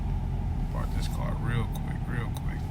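A car engine rumbles steadily from inside the cabin while the car is being parked, with soft murmuring voices over the low drone.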